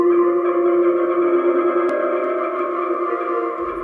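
Reversed synth sample layered with reverb in a dream hardcore / modern gabber production, a sustained swelling tone with steady harmonic layers that holds evenly for about four seconds before cutting off.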